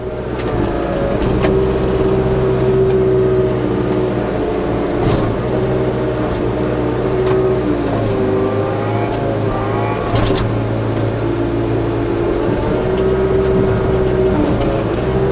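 Heavy brush-clearing machine with a rebuilt motor and new pump, working small trees and brush on a road below a retaining wall, its engine droning loud and steady throughout, rising and falling in pitch as it revs, with faint clanks.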